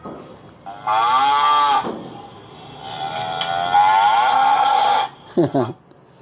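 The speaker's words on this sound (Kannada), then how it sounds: "ಹಸು" A cow's moo played back through a camera's speaker as one of several animal sound effects, two long sustained moos followed by a short closing call, loud and close.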